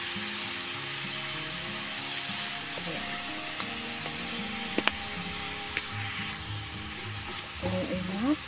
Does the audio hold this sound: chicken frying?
yes